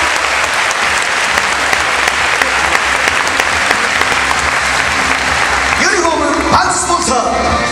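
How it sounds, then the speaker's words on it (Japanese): Loud, sustained applause from a large crowd at a football club's new-season presentation event, continuous clapping filling the space, with voices emerging near the end as the clapping thins. "皆様どうぞ大きな拍手をお願いいたします。"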